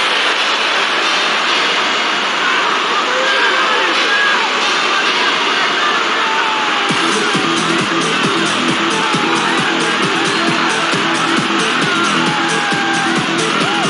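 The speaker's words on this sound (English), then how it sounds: "The home fans creating a real atmosphere here. The crowd is well alive." Home fans roar continuously in a FIFA 2002 football match after a goal at Euro 2000 with Sweden playing. The loud, dense stadium noise keeps going throughout while a commentator talks.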